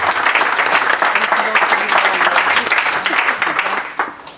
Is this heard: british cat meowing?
no